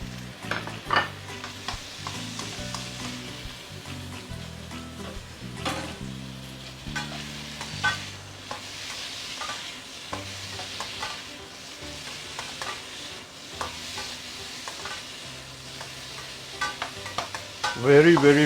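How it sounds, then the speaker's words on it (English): Vegetables being stir-fried in a wok for sweet and sour pork, a steady close sizzle broken by frequent scraping and clattering strokes of a spatula against the pan, running throughout with no talk. "Then stir fry the rest of your veggie"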